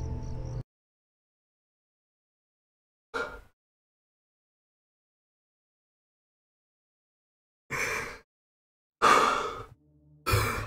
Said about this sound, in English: I thought I heard breathing.